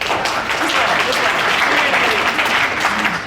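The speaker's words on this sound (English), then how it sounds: "No more applause. They already applauded." An audience at a Medicare enrollment seminar claps steadily throughout, a dense sustained round of applause with voices mixed in.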